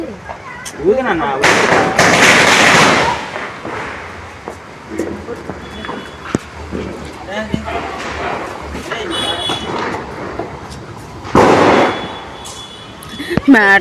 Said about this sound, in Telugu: మేము కూడా మేడ మీద బాంబులు కాలుస్తున్నాం